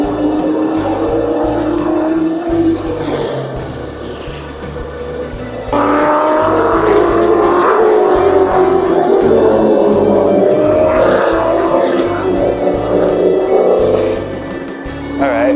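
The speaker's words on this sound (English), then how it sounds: "Here come all the cars, thankfully." Trans Am race cars pass in the rain at Lime Rock Park, their loud engines rising and falling as they go by one after another with shifting pitch, while a voice speaks over the racing noise.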